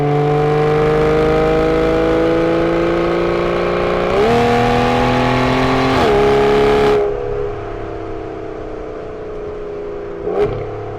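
A 2015 Aston Martin Vanquish in sport mode revs hard from inside the cabin, its engine tone climbing in pitch through quick gearshifts and then dropping away, with a short sharp blip near the end.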